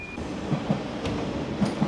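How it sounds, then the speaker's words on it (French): A tram in Île-de-France sits at the platform, giving off a steady low rumble with a few soft clicks and knocks, heard close with no talking. "Bon, le tram est là, il part dans 6 minutes, je crois."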